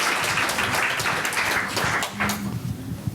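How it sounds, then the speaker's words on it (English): An audience at the Irish Heart Foundation Stroke Awards ceremony claps loudly, with individual close hand claps standing out from the crowd and a few brief voices underneath. "Give a round of applause."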